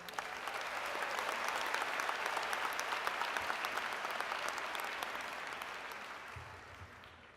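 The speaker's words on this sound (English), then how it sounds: "Please give these two top students a great hand of applause." Audience at a spring graduation convocation applauding award-winning top students, a broad steady wash of many hands clapping that swells, holds for several seconds and slowly fades, heard from a distance with no talk over it.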